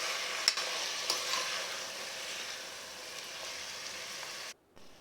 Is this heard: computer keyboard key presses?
no